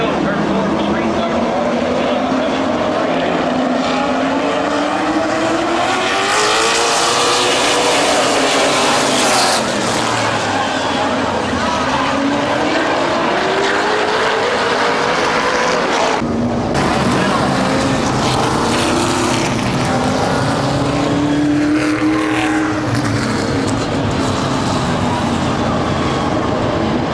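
Late model race cars restart at Midvale Speedway, engines roaring loud and close as the pack climbs through the gears and sweeps past, with a commentator talking over the din.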